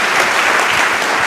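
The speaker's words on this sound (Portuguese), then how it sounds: "Dê uma salva de palmas" Churchgoers applaud in a Portuguese-language worship service: a thick, even wash of clapping from many hands, fairly loud and steady throughout this brief moment.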